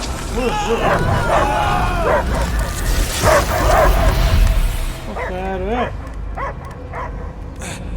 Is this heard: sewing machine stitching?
no